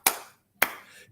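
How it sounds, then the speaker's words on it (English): Two sharp hand claps spaced about half a second apart, each crisp and close with a short decay, alone in otherwise quiet surroundings. "So to make noise with your palm means to clap."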